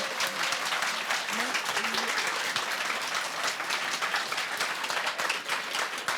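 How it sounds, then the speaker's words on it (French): Steady applause from an audience, dense and continuous clapping filling the room without a break. "On peut la applaudir encore un peu?"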